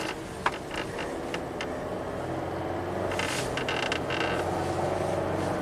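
A Cadillac SRX V6 with a timing fault accelerates, heard as a steady, fairly quiet engine drone with faint creaks and mechanical rattles that swells slightly midway through.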